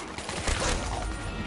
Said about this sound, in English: Nothing like an SMG